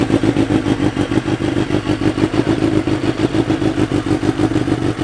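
A Kawasaki motorcycle engine idles steadily while warming up, loud and close, with a continuous throbbing, slightly clattery rumble throughout.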